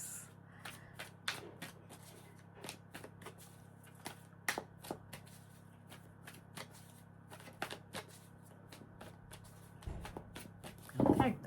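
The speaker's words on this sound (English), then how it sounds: "I'm going to shuffle for Scorpio for the week of February" Tarot cards are shuffled close by in a quiet room, the riffles and slaps coming in irregular bursts across several seconds, fairly soft, with a louder rustle near the end.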